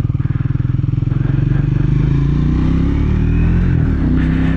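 A 2024 Triumph Speed 400, ridden without a quick shifter, drones loudly and close as it pulls forward, its engine note climbing steadily with a slight shift in tone.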